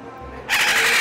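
Kelly, a pet bird at a World Animal Day pet event in a mall, lets out a single loud, piercing scream lasting about half a second, close by after a brief quiet moment.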